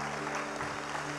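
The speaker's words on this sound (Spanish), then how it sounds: "Dele una ofrenda de palmas al Señor." A church congregation claps in a short, dense burst of applause over a steady low hum.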